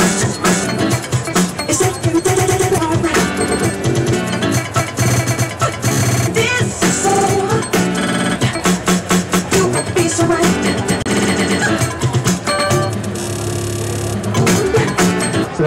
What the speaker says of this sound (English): Loop roll is kind of like looping, except instead of coming back to the song where you started the loop